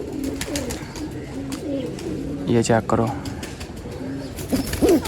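Soft pigeon cooing and a brief flutter of wings close by, with someone speaking over much of it.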